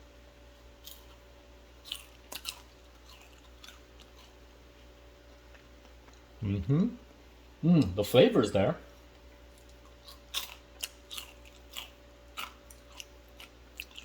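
Crisp crunching of air-fried French fries being chewed close up, a few bursts of bites around the middle, with a person speaking briefly afterward.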